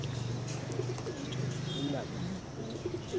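Male pigeons of an old bloodline cooing in a loft, a low soft rolling coo repeating through a steady murmur of birds, with faint chirps above.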